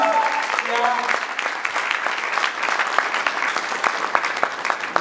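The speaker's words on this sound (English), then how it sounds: "Let's have a huge round of applause for this guy." Audience applause at a comedy show, a loud, dense and sustained patter of many hands clapping that holds steady across the whole stretch with no voices over it.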